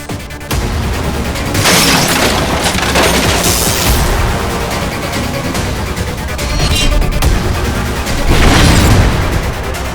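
Loud blast and booming explosions destroy a spaceship in a Hindi superhero cartoon episode, with rumbling bursts and crackling debris filling the scene from start to finish, swelling again near the end.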